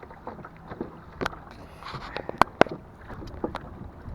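Oars pull a rowing boat through water, towing something, with irregular splashes and knocks over a steady wind-like wash; two sharper strikes stand out near the middle.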